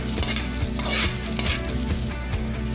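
Garlic and onion sizzle steadily in hot oil as tinola begins, a dense close frying hiss with soft rhythmic stirring knocks every half second or so, no voices over it.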